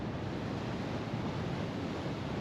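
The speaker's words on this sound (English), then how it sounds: "The wind's dropped, the sea's dropping, but it's still got a good bit of movement on." Sea waves and wind on the coast at Newbiggin-by-the-Sea near Beacon Point, with a half-metre to one-metre swell and easing wind, a steady, dense roar of surf and wind noise with no voices.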